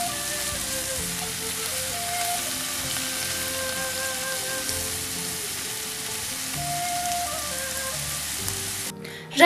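Shrimp sizzle steadily in a hot pan, a continuous crackling fry at close range, with faint clinks now and then.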